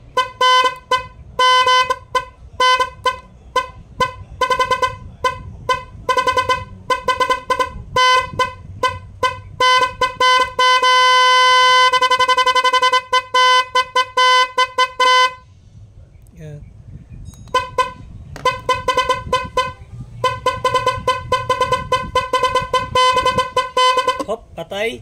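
A car horn pressed repeatedly in short and long bursts, loud and close, some blasts held for several seconds, with a person talking in between.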